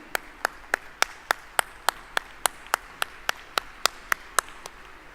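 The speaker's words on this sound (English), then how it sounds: "I think that applause should be much louder, ladies and gentlemen, for Kalamandalam Devi" At an anniversary celebration, people clap for a dance teacher. The claps are sharp and evenly spaced, coming at a steady rhythm of about three per second over a quiet background.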